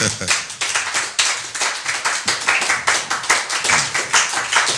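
A church congregation claps to acclaim Jesus, many hands beating fast and loud in a steady rhythmic pattern, close and filling the room, with voices mixed underneath.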